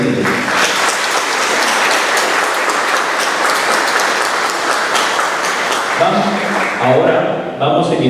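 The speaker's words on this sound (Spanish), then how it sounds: "Un fuerte aplauso para ellos," A conference audience applauds outstanding students with sustained, dense clapping from many hands, loud and even throughout, thinning near the end as a voice begins speaking over it.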